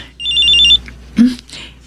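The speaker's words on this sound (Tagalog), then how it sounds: "Ma, nagre-ring ang cellphone niyo." A mobile phone rings indoors with a short trilling electronic ring, followed by a brief spoken word as the ringing stops.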